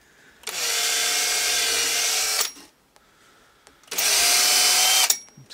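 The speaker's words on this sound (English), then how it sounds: "the back of the Ryobi drill hangs out a lot more" A Ryobi power drill runs at steady full speed in two loud, close bursts of about two seconds each, separated by a short pause, during a virtual pinball cabinet build.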